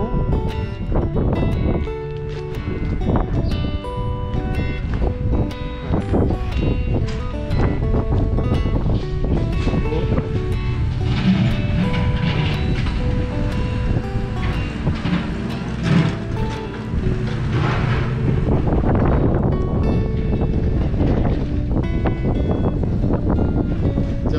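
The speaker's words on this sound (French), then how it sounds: "Par contre, il y a un petit vent." Wind gusting across the microphone in a steady rumbling rush, with scattered knocks and clatter mixed in throughout.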